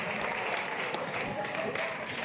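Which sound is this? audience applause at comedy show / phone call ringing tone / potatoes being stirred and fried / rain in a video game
audience applause at comedy show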